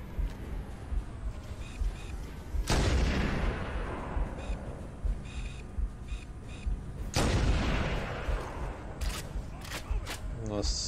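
Gunfire and heavy blasts in Halo Combat Evolved, two big booming impacts among scattered shots and battle noise, with someone talking over much of it.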